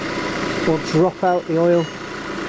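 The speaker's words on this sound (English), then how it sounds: "Let the engine warm up" A Citroen Xantia's engine idles while warming up ahead of an oil change, a steady low hum running throughout, with someone talking briefly over it.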